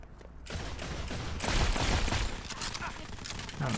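Rapid bursts of gunfire from the mobile shooter Modern Combat 5 rattle in dense overlapping volleys, continuing throughout at moderate level.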